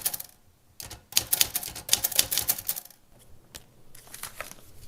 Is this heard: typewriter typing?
yes